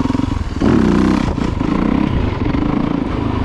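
A Yamaha YZ450FX dirt bike engine revs sharply as the rider lifts into a wheelie, the loud burst easing into a steady close-up drone with some clatter.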